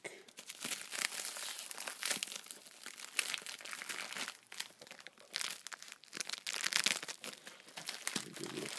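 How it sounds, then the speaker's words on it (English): Packaging around powder-coated steering wheels with a chrome finish being cut open, steady crinkling and crumpling of plastic wrap with sharper tearing bursts, close and moderately quiet, no speech. "let's see if I can cut this open and give you a peek."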